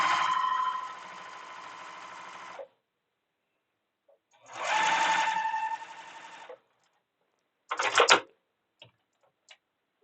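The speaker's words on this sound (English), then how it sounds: "Let me go ahead and get this one sewn up here." A sewing machine stitches fabric pieces together in two sustained runs of rapid whirring, followed by a short burst and a few faint clicks, close and clear in a quiet room.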